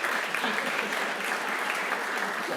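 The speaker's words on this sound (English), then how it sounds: "We have a little round of applause for Fred and his picture." Applause from an audience at an AI demo day, a short burst of dense, steady clapping heard up close.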